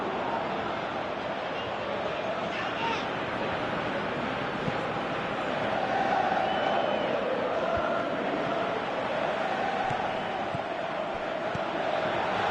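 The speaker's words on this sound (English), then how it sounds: "you can hear how the crowd are reacting to this too" A football stadium crowd roars in a broad, continuous wash of distant voices that swells slightly midway through, with no clear individual speech.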